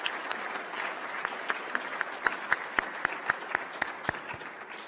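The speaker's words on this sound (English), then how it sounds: "join me in a warm round of applause for those who made this possible" An audience at NASA's Apollo 17 50th anniversary celebration gives a warm round of applause, steady crowd clapping with distinct sharp claps standing out, moderately loud and unbroken.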